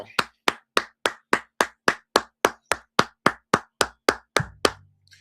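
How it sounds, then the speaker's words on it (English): One person claps hands sharply and close to the microphone, about fifteen crisp evenly spaced claps in a steady rhythm that stop abruptly, with no other sound around them. "I'm always applauding my Buckeye guys."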